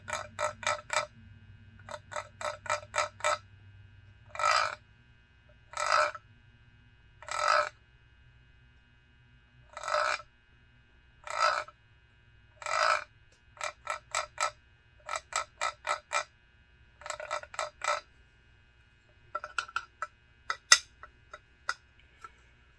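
A wooden hunting call made of bloodwood with a canary wood comb and black palm paddle gives a series of short raspy scratching bursts, some in quick clusters, some single, close and clear against silence.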